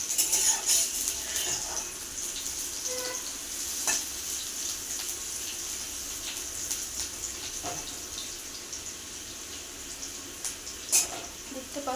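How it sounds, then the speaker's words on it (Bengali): Chopped onion and garlic fry in oil in a pan with a soft, steady sizzle, punctuated by occasional light clicks of stirring throughout. "ভালো করে একটু ভাজা হবে তেলে।"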